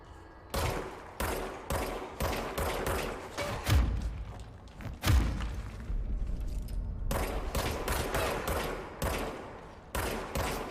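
Gunshots fired at point-blank range in the game Control, repeated loud bursts of rapid fire broken by short pauses, with a couple of heavier thumping blasts in the middle.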